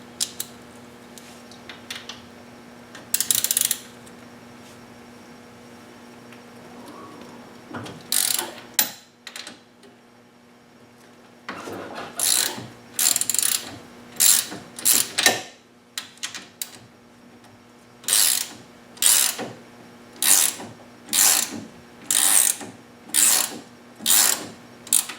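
Ratchet wrench working an 18mm tie rod end bolt on a Polaris RZR, heard as a rapid series of close, loud clicking bursts that come in regular strokes and grow more frequent toward the end.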